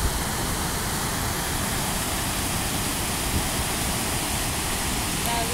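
Kivach waterfall in Karelia, a dense steady roar of falling water with spray, loud and continuous at close range.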